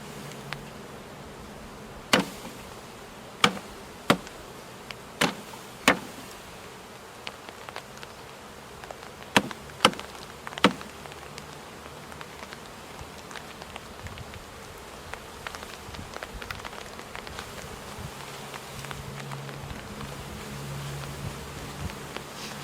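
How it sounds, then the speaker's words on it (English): Honey bees shaken from a package into a new hive box hum in a steady, dense buzz, with several sharp knocks and taps scattered through the first half. "I tapped the bees again and shook them into their new box."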